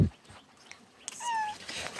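A house cat gives one clear, rising meow near the end, close and moderately loud, after a mostly quiet stretch with faint outdoor background.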